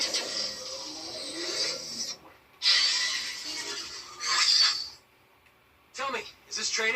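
A Superneox Anakin Skywalker Episode 3 replica lightsaber with the Photon sound font, giving bursts of bright buzzing hum that start and stop several times with short silent gaps between.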